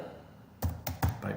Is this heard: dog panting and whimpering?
no